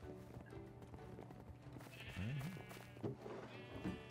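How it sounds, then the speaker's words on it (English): Sheep bleat in a Minecraft sheep farm inside a cave. Several short wavering bleats rise over a steady bed of game music and ambience, fairly faint in the mix. "We got a little sheep farm in here."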